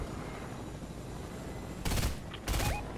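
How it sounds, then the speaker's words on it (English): Fortnite gunfire in a duo match: two loud bursts of rapid shots ring out near the end, the first longer, the second shorter, over a steady hum of game ambience with no talk. "Oh, he's trying to shoot us."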